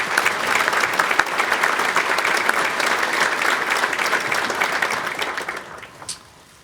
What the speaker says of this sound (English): So let's give them a round of applause, please.